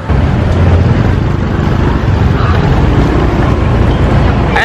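A motorbike pulls away along a street in Pattaya, Thailand, its engine rumble mixed with heavy wind buffeting on the microphone, loud and close throughout.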